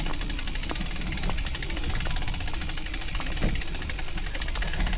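A motorcycle engine idles roughly with a dragging, uneven beat, a steady mid-low rumble with periodic knocks and rattles close by, running without pause.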